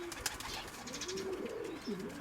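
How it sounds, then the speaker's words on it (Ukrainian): Pigeons coo softly nearby, a low rolling coo repeating across the moment with a few faint chirps above it, no voices. "Дві збоку голубеня."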